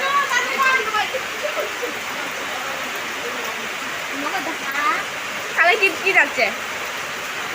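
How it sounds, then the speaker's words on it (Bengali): Heavy rain at an outdoor picnic: a loud, steady rushing downpour throughout, with faint voices and a few brief chirpy sounds in the middle of it. "প্রচণ্ড বৃষ্টি হচ্ছে"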